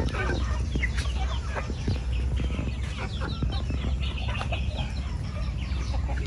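Shamo chickens cluck in a dense, continuous chorus at a farm, many birds close by making overlapping calls over a steady background hum.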